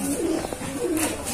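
A dove or pigeon coos softly in a short, close call, with a low rounded rhythm repeated a couple of times over steady background noise.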